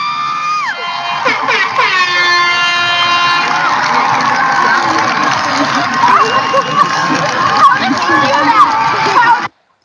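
A large crowd cheers and roars continuously while air horns blare long sustained tones, loud and dense throughout before cutting off abruptly at the end.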